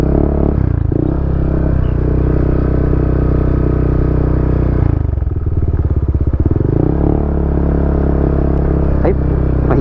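A motorcycle rumbles along a rough, hard dirt road, its steady engine note close and loud, with rattling clatter and a burst of juddering over bumps midway, heard alone.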